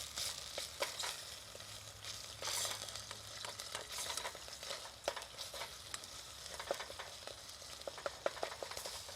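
Curry paste and coconut cream for a Thai green curry sizzle gently in a pot while a spoon scrapes and stirs, producing irregular clicks and soft bubbling crackle, close and fairly quiet.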